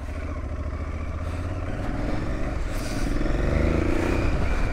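An Aprilia Tuareg 660 motorcycle pulling away, a steady engine drone rising gradually in loudness, mixed with wind rush throughout.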